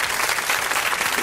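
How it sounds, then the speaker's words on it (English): Audience applause fills the whole short stretch as dense, steady clapping from a crowd, loud and even throughout. "Stop applauding me,"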